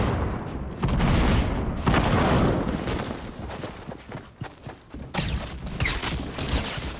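Loud, dense bursts of gunfire in a video game squad fight, rapid volleys and booms rolling almost continuously with brief lulls, close and heavy throughout.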